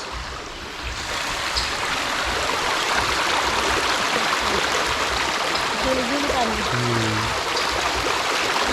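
Clear water flows over stones in a stream, making a loud, steady rushing babble close by, with brief voices or faint tones appearing partway through.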